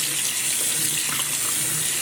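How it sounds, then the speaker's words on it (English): Cold tap water runs steadily into a sink as cooked noodles are rinsed: a continuous hissing splash with no pauses. "we're going to strain them and rinse them in cold water"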